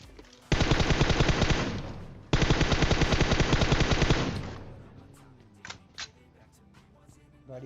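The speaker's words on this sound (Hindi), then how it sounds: "आगे गोलियां दबा के चलेंगी अब" Rapid automatic gunfire in a shooter video game, two long loud bursts back to back, followed by scattered fainter shots and clatter.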